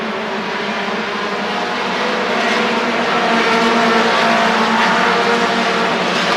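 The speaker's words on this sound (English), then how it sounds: "Green flag, and we're racing." Stock race cars roar around Rockford Speedway at the green flag of a 1993 race, a dense, loud pack of engines droning and building steadily as the field accelerates.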